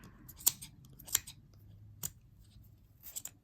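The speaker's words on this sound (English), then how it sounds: "get the scissors right underneath that." Scissors snip through pom pom yarn in a quiet room, four or five sharp, separate cuts spaced about half a second apart.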